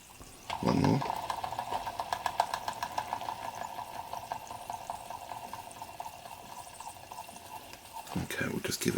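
A Latimer L4 toy steam engine running, close and steady, with a rapid, even chuffing beat over a hissing steam tone that carries on without pause, with a louder burst near the start and clatter at the end.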